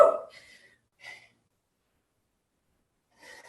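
Heavy breathing during a home strength workout: a sharp, loud gasp at the start, then a few brief, breathy exhales separated by long silent gaps, close to the microphone with no talking.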